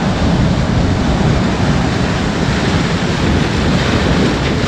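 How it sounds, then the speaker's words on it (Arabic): Sea waves surging onto a shore on a fishing outing, a loud, continuous, close roar of surf with wind buffeting the microphone and no speech. "وكاين هاد الموجه هادي بعدا راه مزيانه"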